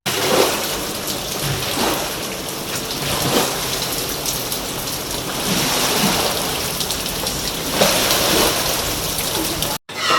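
Heavy rain pours onto a flooded residential street, a loud, dense and steady hiss of drops splashing on water and surfaces, with faint surges and a brief cutout near the end.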